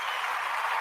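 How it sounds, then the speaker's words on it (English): Audience applause for a guest chef at a live talk show, a dense even wash of many hands clapping, moderately distant and fairly faint, with no talk over it. "Gotta give her a round of applause."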